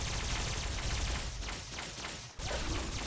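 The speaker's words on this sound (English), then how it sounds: "Some days you just feel like throwing around a lot of particle beams." Union Blaster energy weapon from a Fallout 4 mod firing particle beams in rapid succession, a dense, continuous stream of zapping shots with a brief gap near the end before the barrage resumes.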